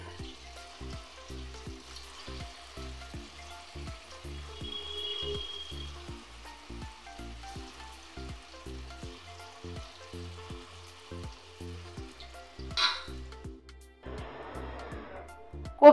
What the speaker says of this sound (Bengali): কোপ্তাগুলো আমি ভেজে নিচ্ছি।